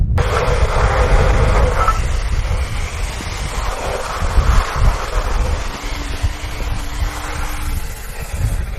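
Water rinsing over a diesel EGR valve, a steady broad hiss and rushing splash that continues without break, fairly loud and close.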